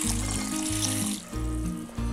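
Sago pearls swished and rinsed in a bowl of water, a steady close wet sloshing with short pauses, no voices over it.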